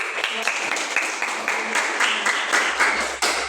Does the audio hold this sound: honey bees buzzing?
no